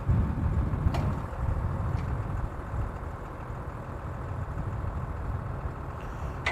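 A tractor engine runs steadily with a KW spreader mounted on its hydraulic arms, a loud, low rumbling idle with a few faint clicks over it.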